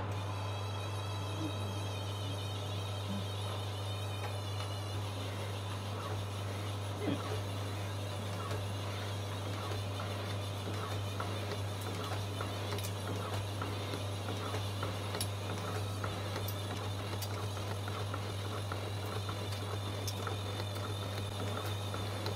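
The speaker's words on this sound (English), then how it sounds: "This makes big chips for such a little machine." An Elliott 10M metal shaper cutting a T-nut blank, its steady motor hum underlying a repetitive ticking of strokes as chips break off the metal, continuous throughout.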